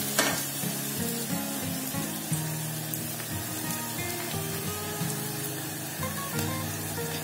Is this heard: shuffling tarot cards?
no